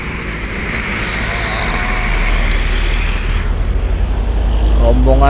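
A convoy of container trucks rumbles along the Trans-Sumatra road in Palembang at night, a steady, loud low engine drone with passing traffic noise building toward the end.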